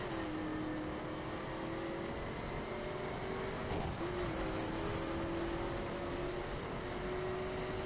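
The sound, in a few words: car passing another car in The Crew video game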